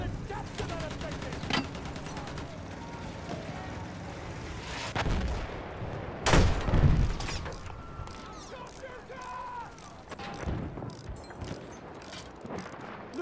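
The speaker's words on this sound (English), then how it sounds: "Look out! Machine gun!" Battlefield 1 combat on the River Somme with a landship nearby: bursts of machine gun fire and heavy gunshots crack out loud and close, with booming blasts mixed in and shouted voices amid the battle noise.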